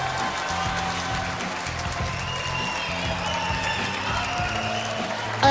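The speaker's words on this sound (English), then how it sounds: "Please give a warm of applause to all the ladies leaving the stage now." An audience at a beauty pageant, Miss Supranational 2017, applauds steadily for the contestants leaving the stage. The dense clapping holds level throughout, with a brief louder swell at the very end.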